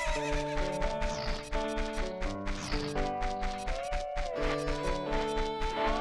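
Horse neighing in Zelda: Ocarina of Time, game sound over looping background music with steady clip-clop hoofbeats.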